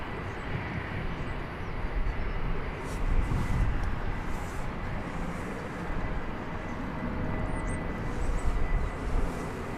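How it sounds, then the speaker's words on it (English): An American Airlines Airbus A321 jet at DFW Airport gives a steady, broad engine roar that holds loud and close throughout, swelling slightly midway and near the end, with no voices. "That is an American Airlines Airbus A321. It's going to Los Cabos on the Baja Peninsula."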